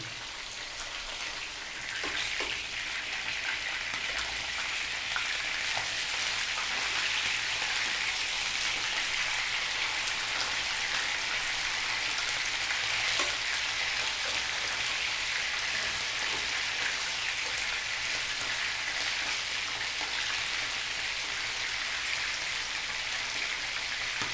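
Chicken frying in a pan for a chicken gravy dish, giving a dense, steady hiss and crackle of hot oil that holds at an even level throughout with no talking.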